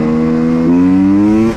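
A KTM 300 TPI two-stroke dirt bike engine holding a loud, steady low-rev drone that rises slightly in pitch, close up, then cuts off at the end.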